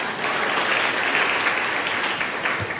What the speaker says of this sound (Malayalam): ഒരു ക്ലാപ്പ് നമുക്ക് തന്നെ